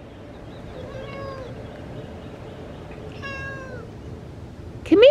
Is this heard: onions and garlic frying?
no